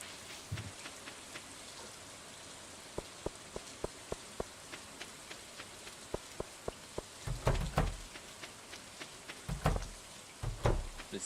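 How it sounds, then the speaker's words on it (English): Gentle rain in the Stardew Valley video game: a faint continuous patter with scattered sharper drip taps and occasional soft thumps, heard alone. "especially with the rain sounds going on now"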